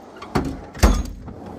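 A toolbox drawer slides on its runners in two short, close rolling pushes, each with a soft thud, followed by a quiet pause.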